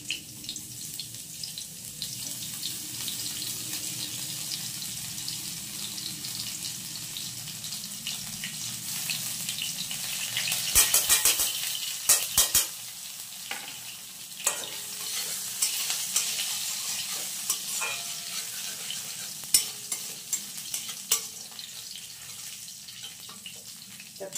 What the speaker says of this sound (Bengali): আর এটার মধ্যে দিয়ে দিচ্ছি অল্প করে আদা, গ্রেট করে দিয়ে দিচ্ছি আদা।